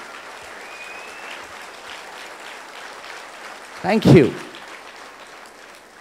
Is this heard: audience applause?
yes